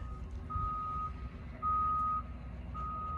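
Reversing beeps from a service truck backing up at a forklift repair site, three steady tones repeating at a slow even pace over a low idling engine rumble, fairly close.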